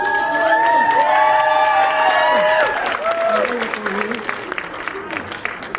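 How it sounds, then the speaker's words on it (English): Audience at a burlesque show claps and cheers loudly for several seconds, a dense wash of applause with shouts rising over it before tapering into scattered clapping. "Give a big round of applause."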